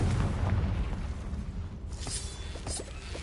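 A Confringo fire spell explodes in the Hogwarts Legacy video game, a low rumbling boom up front that fades. Sharp spell bursts and crackles follow.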